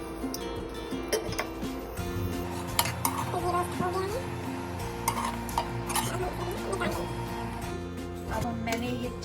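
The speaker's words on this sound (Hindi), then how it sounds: "और अब हम इन्हें भी हल्का हल्का रोस्ट कर लेंगे" Dried fruits and walnuts dry-roast in a pan, with scraping and clinking of a utensil against metal as they are stirred, while a person talks over the cooking.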